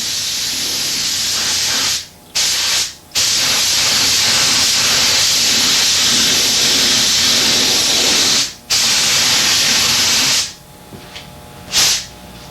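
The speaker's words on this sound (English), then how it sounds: "Blow off the area and start priming." Compressed air blowing and spray priming over a car body repair, a loud continuous close hiss broken by a few short pauses before fading to quieter bursts near the end.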